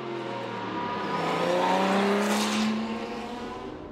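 A Porsche 917 race car in 1970 bodywork drives at the Le Mans Classic, its engine note climbing and swelling in a loud pass, building to a peak and then easing off, with no voices.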